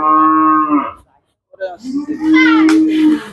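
A Friesian cow at a Qurbani livestock market moos loudly and close by, two long lowing calls separated by a short pause.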